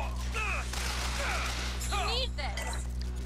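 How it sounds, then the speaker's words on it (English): Enemy gunfire in the video game Bioshock Infinite crackles in repeated bursts over a steady game hum, mixed with whooshing effects and sharp game sounds, all at a fairly loud level. "he's shooting me"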